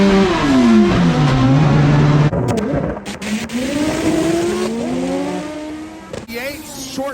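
Drag race cars launch in a grudge race, engines roaring loudly with rising and falling pitch as they accelerate away, while a track announcer talks over the noise.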